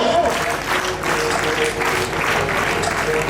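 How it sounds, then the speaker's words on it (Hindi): Loud, sustained audience applause filling a school annual function hall, steady dense clapping throughout with no break. "तो प्लीज जोरदार तालियां, साउंड क्लैप को।"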